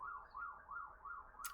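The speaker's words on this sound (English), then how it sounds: "Sorry, sirens, inner city living." A city siren wails in a steady, repeating up-and-down cycle, faint and distant, with a brief sharp noise at the end.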